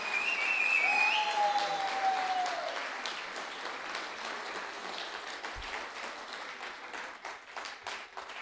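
An audience at a product launch during a company's 17th anniversary celebration breaks into loud sustained clapping, with a whistle cutting through at the start, then the applause thins and fades toward the end.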